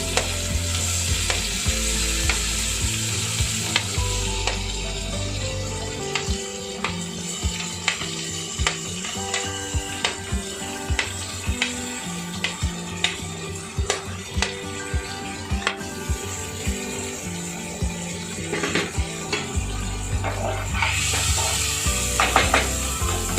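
Onions frying with mustard seeds in a pan for a fish curry, a loud continuous sizzle broken by frequent sharp clacks and scrapes of a spoon stirring against the pan.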